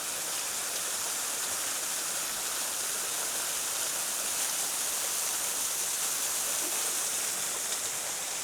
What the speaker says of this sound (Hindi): पानी ऊपर से गिर रहा है